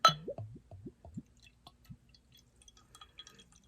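A bottle of Hailstorm Brewing Company maple vanilla beer glugs out close by, with about six quick gurgling pulses in the first two seconds before it settles into near silence with faint clinks.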